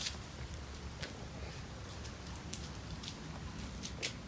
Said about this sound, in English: Look at all the rain. Oh my god! It is raining everywhere.